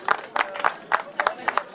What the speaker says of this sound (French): on applaudit ces jeunes cadets